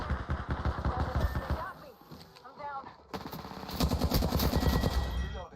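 Automatic weapon fire in Apex Legends rattles in rapid bursts, cutting out briefly before a heavier sustained volley resumes, loud and close with in-game voice chatter mixed underneath.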